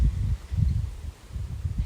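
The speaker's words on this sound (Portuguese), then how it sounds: "vocês devem estar ouvindo o barulho do vento nas árvores" Wind gusting through trees in waves, leaves rustling as a soft, steady whoosh that swells and eases, with no voices.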